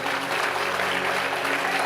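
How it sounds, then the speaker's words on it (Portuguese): A church congregation applauds in praise during a worship service, a steady wash of clapping filling the room at a constant level for the whole stretch with no voice standing out. "Você pode aplaudir a Ele em nome de Jesus."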